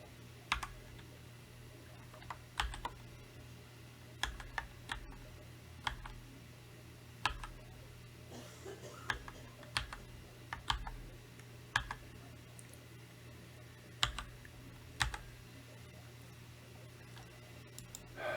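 Password being typed on a computer keyboard, a quiet run of separate key clicks and taps spaced irregularly with short bursts, close by and with no talking.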